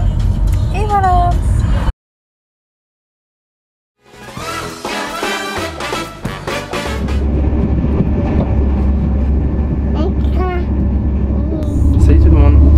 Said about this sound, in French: On est dans le train du coup, direction Rennes pour ensuite aller à Strasbourg.